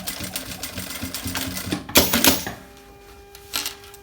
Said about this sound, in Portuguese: E agora aqui é só passar a costura de pesponto para dar o acabamento.